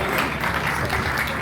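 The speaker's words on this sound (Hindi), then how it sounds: "जोरदार तालियां हो जाए।" An audience at an EME Corps Foundation Day celebration gives steady applause, a close, even burst of many hands clapping that runs for a moment and a half.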